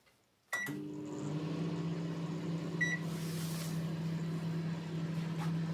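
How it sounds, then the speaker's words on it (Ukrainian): An LG microwave oven under repair for not heating starts up after a brief quiet moment with a sudden onset, then settles into a steady low hum and drone that continues close by, with a faint short beep partway through. "Банка стоїть, закриваємо і вмикаємо."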